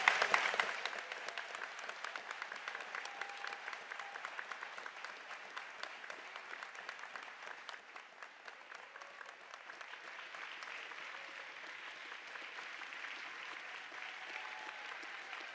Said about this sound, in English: When they quit clapping, I'll say something.